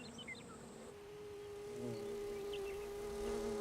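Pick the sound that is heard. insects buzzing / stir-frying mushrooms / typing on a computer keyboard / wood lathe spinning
insects buzzing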